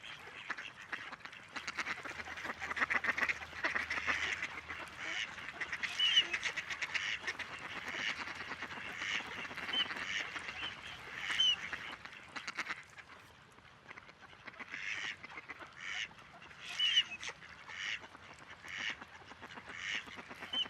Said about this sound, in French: un canard plongeur principalement consommateur de poissons